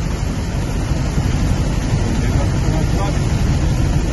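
Floodwater from an overflowing river in Penal, south Trinidad, rushes in a loud, continuous roar with wind buffeting the microphone.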